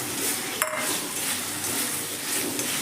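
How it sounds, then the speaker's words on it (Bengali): Fried potatoes tipped into simmering masala in a pan for a colocasia potato dum, one sharp metallic clink over a steady hiss and bubbling, heard close without talking. "এবার আমি এর মধ্যে দিয়ে দেবো ভেজে রাখা আলু।"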